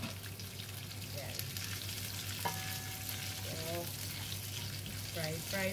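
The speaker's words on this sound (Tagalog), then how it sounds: "Fry at the same time" Mixed canton and bihon noodles with vegetables sizzle steadily in a pan, with occasional stirring clatter and someone speaking over the frying.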